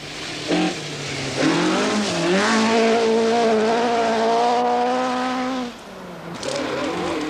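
A rally car races flat out on a stage of the 1980 Mintex Rally, its engine revving hard through gear changes with a brief lift near the end, loud and close with no talk.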